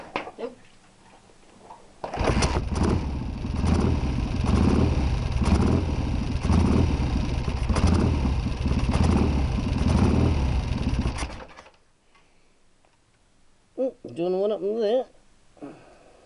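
A motorcycle engine fitted with a new Podtronics regulator cranks into life and runs steadily for about nine seconds at close range, then cuts off, leaving quiet and a brief burst of voice at the end.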